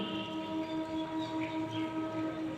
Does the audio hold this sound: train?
yes